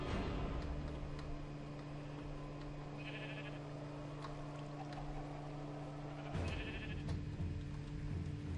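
Sheep in Minecraft bleat twice in short, soft calls over a steady low hum, quiet and somewhat distant with no talking.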